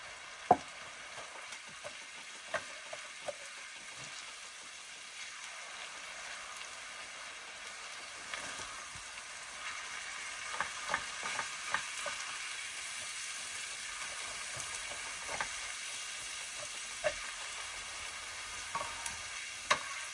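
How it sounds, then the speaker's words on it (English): Chili with mushrooms simmers quietly in a pot, giving a soft continuous bubbling hiss with scattered faint clicks and taps of stirring throughout. "so now I'm gonna let this simmer for a little bit"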